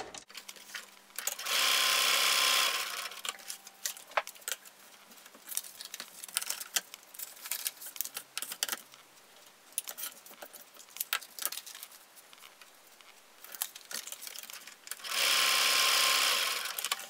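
A sewing machine stitches paper-pieced quilt blocks, with two loud, steady whirring runs of about two seconds each at the start and end, separated by quieter handling, rustling and tapping as the triangle and square are aligned.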